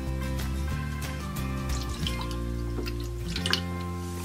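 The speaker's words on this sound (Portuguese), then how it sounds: "Então vou colocar um pouco d'água." Water trickles and drips into a toy blender for pretend juice, a soft steady pour under a loud tonal hum.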